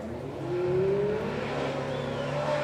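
A Ferrari F430 at a supercar weekend gives a loud, sustained engine rev, its pitch climbing steadily as it approaches, with no talk over it.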